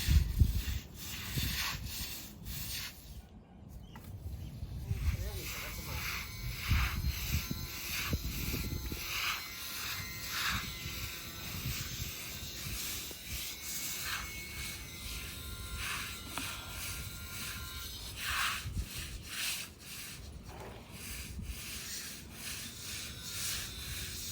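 Stiff brush scrubbing moss and green algae off an outdoor floor, a steady loud rasping with repeated strokes throughout, close up and without speech.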